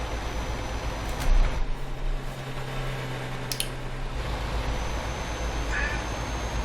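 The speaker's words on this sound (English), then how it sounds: "And I've got a cat coming in." A pet cat meows a few times indoors, with short faint cries heard near a steady background hum and no talking over them.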